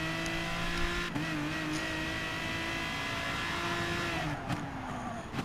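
A race car engine revs at Suzuka in Gran Turismo Sport with a continuous loud drone, pitch rising and falling through gear changes and braking for a hairpin, and a brief dip near the end.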